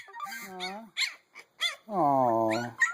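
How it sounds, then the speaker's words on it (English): Two-week-old Siberian Husky puppies play fight, making short, squeaky growls and yelping whines in quick, uneven bursts at close range, ending in one longer, strained growl. "You two puppy fighting?"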